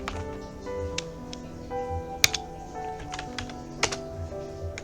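Computer keyboard keys tapped at a steady, unhurried pace, a few louder individual clicks standing out over a humming background.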